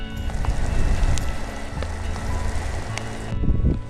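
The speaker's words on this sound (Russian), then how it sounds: "Дождь лупит все сильнее." Heavy rain pelting a tent and the surrounding bare woods on a camping hike, a steady dense broadband wash with scattered sharper drop hits, with a rustle of movement close by near the end.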